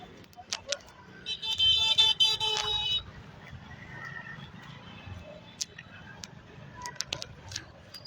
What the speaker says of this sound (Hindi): फिर भी भगाई जा रहा है और फिर हॉर्न मारी जा रहा है।